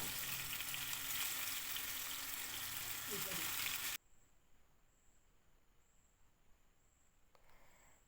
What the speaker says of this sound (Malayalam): റെസ്റ്റ് ചെയ്യാൻ വെച്ച ചിക്കനെ ഫ്രൈ ചെയ്തെടുക്കാം